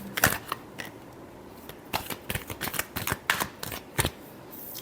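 A tarot deck is shuffled close up, with bursts of quick riffling and papery slaps coming in uneven clusters between short pauses, and no talking.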